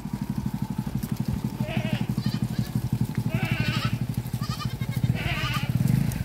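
A flock of sheep and goats grazing on dry farmland bleats in scattered calls over a steady low engine rumble, with some voices mixed in.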